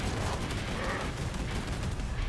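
Medic pistol shots in Killing Floor 2, heard as a quick string of sharp gunfire pops within a loud, continuous wash of combat noise.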